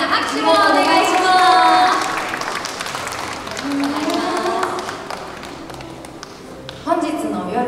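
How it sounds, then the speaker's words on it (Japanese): A crowd at an evening Twilight Party show bursts into applause, brisk clapping running through and around a host's amplified voice, then thinning to scattered claps with a final sharp burst. "大きな拍手をお願いします"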